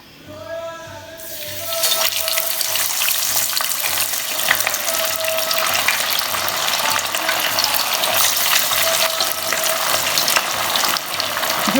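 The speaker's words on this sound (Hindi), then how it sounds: "दूसरे साइड पे मैंने कढ़ाई में ऑयल रख दिया हुआ है, गर्म हो गया। अब हम इसमें फ़िश डालते हैं।" Marinated fish drops into hot oil in a kadai, and a loud, dense sizzle erupts after a quieter second, then spits and crackles steadily at close range for the rest of the time.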